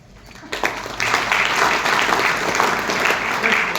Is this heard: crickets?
no